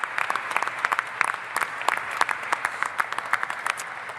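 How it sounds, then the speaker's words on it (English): An audience at a Canadian spaceport launch-pad announcement claps in a steady burst of applause, with sharp individual claps clearly audible and no talking. "So let's give him a round of applause for the work he's going to do."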